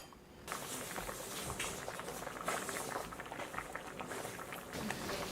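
Cod and tofu rice cake soup boils in a covered pot, giving a faint, continuous bubbling and patter with soft kitchen background noise.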